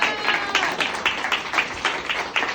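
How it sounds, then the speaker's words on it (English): A small audience at a political campaign event applauds for a short stretch, with steady, moderately loud clapping and a faint murmur of voices underneath. "a round of applause for Mrs."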